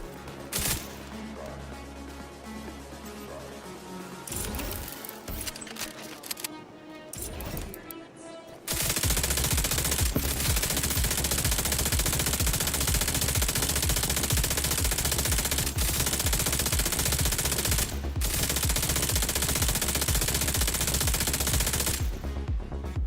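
Rapid automatic gunfire from a toy-sounding rifle in The Division 2 video game, with sustained bursts that grow louder and denser partway through and carry on steadily to the end.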